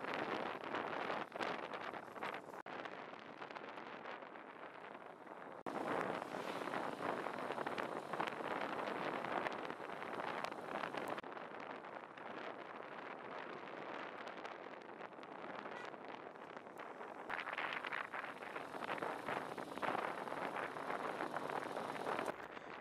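Steady broadband wind roars and buffets the microphone outdoors during a men's road cycling race, with gusts rising and falling in loudness for the whole stretch and no voices.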